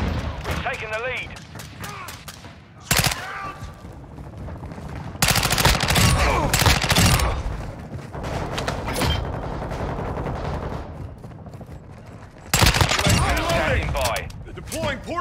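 Dense gunfire in a video game battle, with rapid automatic bursts and sharp blasts that come in loud waves over continuous chatter of voices and game callouts.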